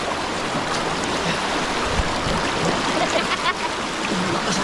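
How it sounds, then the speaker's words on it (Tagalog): Strong current of a flowing stream rushing steadily, a loud, close, continuous watery roar with no break and no talk. "Lakas ang agos."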